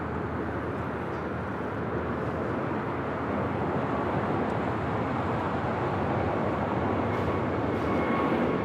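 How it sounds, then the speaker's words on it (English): A Spirit Airlines Airbus A321neo taking off from LAX, heard as a continuous broad engine roar that holds steady and swells slightly over several seconds, distant and with no voices. "Next up for Southside takeoff, Spirit Airlines flight 203 heading to Charlotte, A321 Neo"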